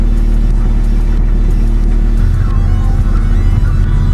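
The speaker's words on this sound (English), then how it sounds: "It sounds like it might have an exhaust leak." A car engine idles steadily and loudly at close range, its low, even rumble carrying a slightly rough, puffing character consistent with a possible exhaust leak, with no talking.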